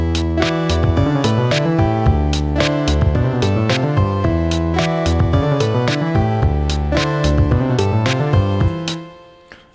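A slap bass line reworked as layered synthesizers for an indie game soundtrack thumps in a dense, punchy groove with sharp percussive hits, playing continuously and loud before fading at the end.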